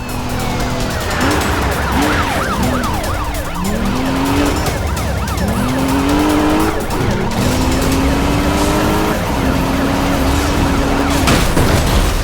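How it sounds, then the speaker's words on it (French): Police pursuit and crash in the video game Need for Speed Rivals: wailing, sweeping sirens over a steady roaring engine and road noise, with a sharp impact near the end and no talking. "Je viens de percuter un pilote"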